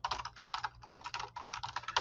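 Rapid typing on a computer keyboard while entering text into a two-by-four table, with bursts of close, crisp key clicks separated by brief pauses and no talking.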